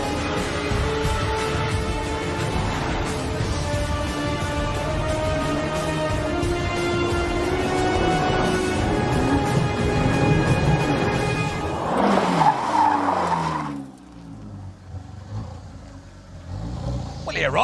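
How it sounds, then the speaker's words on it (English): A turbocharged car engine pulls hard under acceleration with rising harmonic tones, loud and steady for about twelve seconds before cutting off abruptly, followed by quieter rumble. "Come on, let's get that turbocharger singing."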